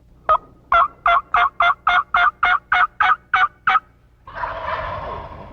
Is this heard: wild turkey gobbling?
yes